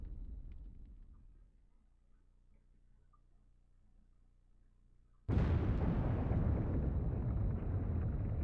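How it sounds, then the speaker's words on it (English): Explosion in the Nintendo 64 game Castlevania: a low, fading rumble gives way to a sudden loud, roaring blast that holds steady and strong to the end. "Shit's about to explode!"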